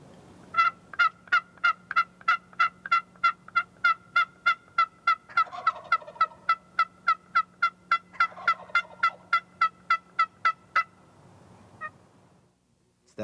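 Wild turkey gobbler gobbling in a rapid string of about thirty sharp, evenly spaced notes over a steady low hum, with a softer rolling call midway; loud and close, no talking.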